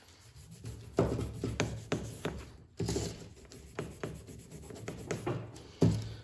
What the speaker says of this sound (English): We'll go ahead and try to scour some of this off and see if we can't get those rings out